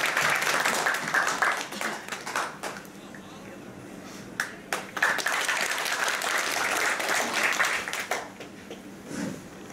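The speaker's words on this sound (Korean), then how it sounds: "큰 박수를 해주시기 바랍니다." An audience at an inauguration ceremony claps steadily at moderate loudness for about ten seconds, with a voice heard briefly near the end.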